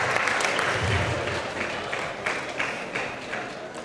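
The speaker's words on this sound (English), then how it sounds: "How about a big round of applause for Elyria Coca-Cola and Greg for sponsoring this award through the years." A crowd at a boys' senior all-star basketball award ceremony gives a sustained round of applause, a full, steady roar of many hands clapping that tapers slightly toward the end, with no speech.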